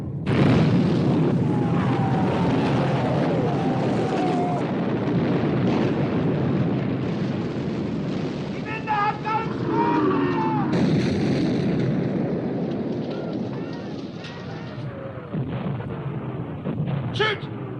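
Battleship naval guns in a 1960 war film firing in heavy booming rounds over a dense rumbling battle din, with voices calling out beneath the blasts.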